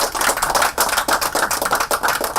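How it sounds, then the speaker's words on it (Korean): An audience at a Korean Senior Citizens Association meeting with party leaders breaks into dense applause, many hands clapping close and loud in quick, uneven bursts, with no speech over it. "박수 한번 해주시고."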